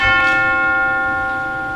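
A single deep clock bell tolls the hour in a stage production of A Christmas Carol. One loud strike rings out, its shimmering overtones humming on and slowly fading.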